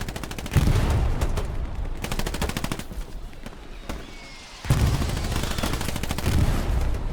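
Artillery barrage in Hell Let Loose, the World War II shooter: two loud spells of rumbling impacts and explosions, a quieter stretch between them, and rapid rattling fire mixed in.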